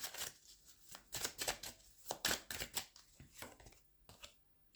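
Quiet, close-up shuffling of a slippery tarot deck during a reading, a series of uneven riffling bursts and card slaps with short pauses between them, no speech.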